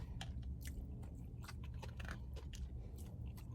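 Close, wet chewing and biting of a Dairy Queen Blizzard and other mukbang food, with repeated crunchy bites and smacking at a steady pace over a constant low background hum, no talking.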